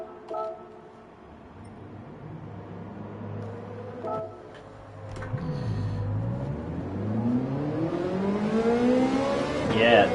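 A Ferrari race car on racing soft tyres in Gran Turismo 7 revs up and accelerates, the engine pitch climbing steadily and growing louder after some quieter clicks and blips. A voice speaks over it.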